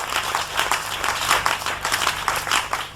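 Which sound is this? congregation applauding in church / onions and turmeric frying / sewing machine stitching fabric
congregation applauding in church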